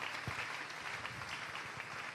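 A church congregation applauds steadily for about two seconds, a dense even patter of many hands at moderate distance, fairly quiet and without a spoken voice over it.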